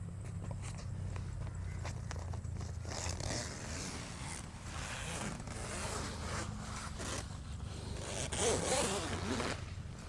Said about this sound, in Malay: Okay, tarik rapat dan baru zip lah.